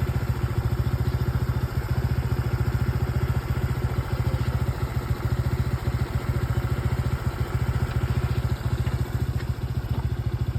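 Steady, loud engine chugging with a continuous low throb and rapid regular pulsing, like idling motorcycle engines close by, on a river raft crossing the Mapaya river in Occidental Mindoro, with no talking.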